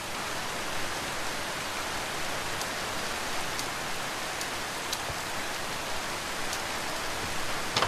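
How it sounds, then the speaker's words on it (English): Steady rain in the Minecraft VR video game, a constant hiss that sits alone without talk, with a few faint ticks scattered through it. "I don't want the rain."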